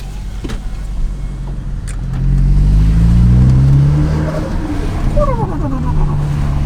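An Audi S3 8P engine fitted with a DV+ and a GFB part revs up loudly, rising and swelling before settling back to a rumbling idle, close by with no voices.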